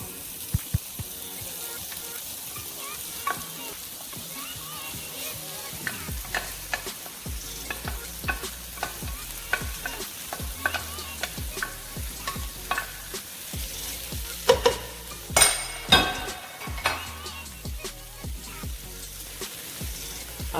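Rice is stir-fried in a pan with shrimp and ham, giving a low, continuous sizzle broken by irregular scraping and tossing knocks from a utensil against the pan, fairly quiet and steady throughout.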